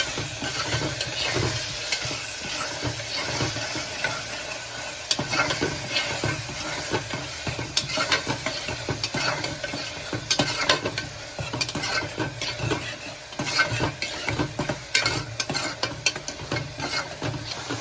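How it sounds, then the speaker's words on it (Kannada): Roasted masala frying in oil in a pan for veg pulao, a continuous close sizzle broken by frequent stirring and scraping knocks, fairly loud and steady, with no voices. "ಹುರಿದ ಮಸಾಲೆ ಹಸಿ ವಾಸನೆ ಹೋಗೋವರೆಗಿನ ಈ ತರ ಫ್ರೈ ಮಾಡಬೇಕು"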